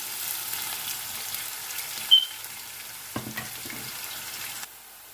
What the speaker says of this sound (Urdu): اب ساتھ ہی پیاز ڈال دیں گے۔ پیاز کو گولڈن کر لیں گے۔